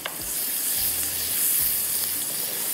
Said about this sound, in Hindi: प्याज हमने डाल दिया, थोड़ा सा इसको करेंगे फ्राई